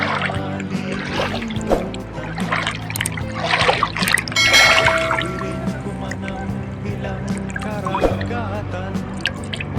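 Water flows with dripping and trickling sounds, close and fairly loud, under a busy mix of other noises, while people talk over it.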